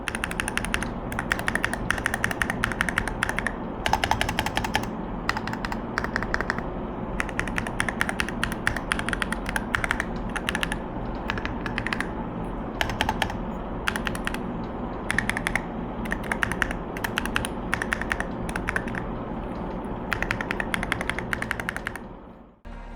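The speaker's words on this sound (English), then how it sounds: "let's get a listen to this keyboard. I want you to hear if it's more clicky or thucky." Rapid, continuous typing on a clicky Skyloong GK68 HE mechanical gaming keyboard, dense bursts of sharp keystrokes with short pauses, close and fairly quiet.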